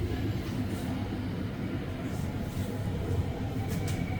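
A REM light-rail train runs between Brossard and Canora stations at 3:30 am, a steady loud interior rumble and rail roar with faint squeals and no voices.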